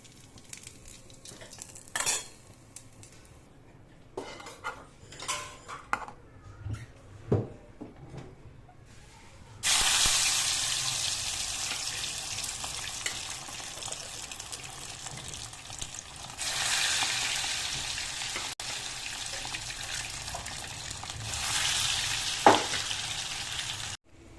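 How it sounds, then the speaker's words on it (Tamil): Curry leaves frying in hot oil in a pan for a Chettinad egg curry, first a few sharp crackles and utensil clinks, then a loud steady sizzle that rises after about ten seconds and continues to the end. "ஒரு கறி எடுத்து நல்லா பொரிஞ்சிருச்சு"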